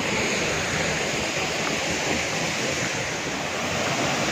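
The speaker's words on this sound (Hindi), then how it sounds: "ये पहाड़ी पे से झरना बहते हुए देखें गिरते हुए देखें आप" Steady, loud rush of a waterfall flowing down a hillside into a pool, a dense continuous roar with no pauses and no voices.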